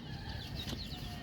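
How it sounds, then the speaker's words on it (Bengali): Chickens in a rooftop poultry farm, soft scattered clucks and a brief flutter of wings, faint and distant under a steady background hum. "আমার ছাদের উপর মুরগির যে খামারটা"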